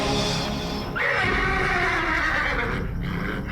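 A horse whinnies loudly and close, a long high neigh that wavers and falls away over a steady background, sounding alone without talking.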